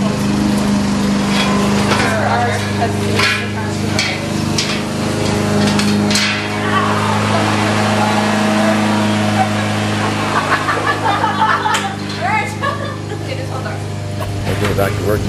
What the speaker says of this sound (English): Got the old trusty Honda lawnmower